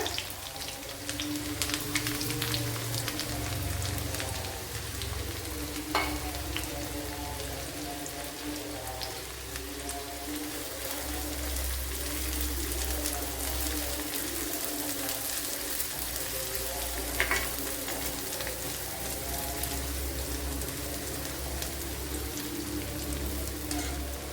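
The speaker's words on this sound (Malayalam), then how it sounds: "അപ്പോൾ ഇതിലേക്ക് ഇനി കൊച്ചുള്ളി ഇട്ട് കൊടുക്കുക." Shallots fry in a pan for a Kerala-style paruppu curry, giving a continuous rain-like crackle and hiss close by, steady throughout, with a couple of faint clinks.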